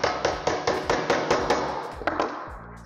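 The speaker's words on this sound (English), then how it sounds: "And then all I've got to do is take my hammer," A hammer taps a Charnwood Fireball stove part into place with about ten quick, sharp, close metallic blows at a steady rhythm.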